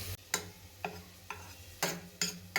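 Cooked toor dal and two tomatoes being mashed for a drumstick-leaf dal: a steady series of soft, squelchy thuds and scrapes, roughly twice a second, close up with no voices.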